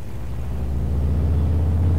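A truck engine in the video game Farming Simulator 22, a low rumbling motor that gradually builds in loudness, heard alone with no talking.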